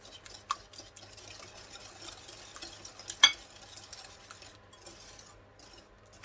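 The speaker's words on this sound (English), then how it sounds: "we're going to give it a bit of a whisk up together" Sugar is whisked into the wet ingredients for a spiced carrot cake batter with rapeseed oil in a bowl: quiet, close scraping and swishing strokes, with an occasional sharper clink of the whisk against the bowl.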